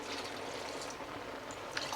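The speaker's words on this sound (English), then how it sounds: "I'm going to add 2 more cups of water into that to just cook it down properly." Water poured steadily into a pot of spring greens curry with ginger paste, a continuous close trickle and splash for the whole stretch with no voices.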